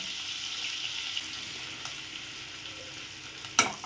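Butter and cumin seeds fry in a little oil, a quiet continuous sizzle with occasional soft pops and one sharper crackle near the end.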